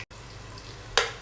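Onion and cumin seeds frying in ghee, a low steady sizzle that rises into a short louder burst of crackling near the end, with no voices.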